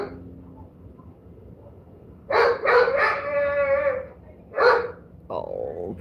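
A puppy barks and yips in a few short bursts, fairly close, with a low indoor murmur in between.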